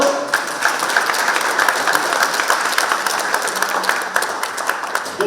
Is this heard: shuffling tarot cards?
no